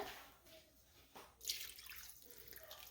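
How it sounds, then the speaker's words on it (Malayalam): Water pours and splashes into a pot of breadfruit curry, a short trickle building to a steady gush, close and fairly quiet with no talking. "ഞാൻ കുറച്ചുകൂടി വെള്ളം ഒഴിക്കുന്നുണ്ട്"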